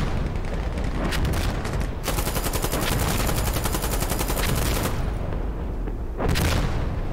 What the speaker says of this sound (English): Oh, and that artillery is really close.